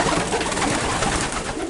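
A racing pigeon hen coos softly and steadily, close by, with a low burbling murmur of more birds around her.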